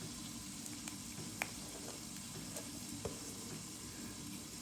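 Two dried red chillies sizzle in hot oil for a tempering, a quiet, steady fizz with a few faint pops and ticks, heard close but low in level and with no talking.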